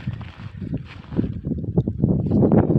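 Gusty, cold winter wind buffets the microphone outdoors in a snowy garden, a low, uneven rumble that swells and grows stronger toward the end.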